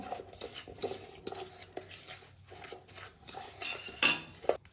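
A sugar mixture is stirred in a bowl for an eggless fruit cake, a utensil scraping and clinking against the bowl in quick repeated strokes, close and fairly quiet, with a sharper knock near the end.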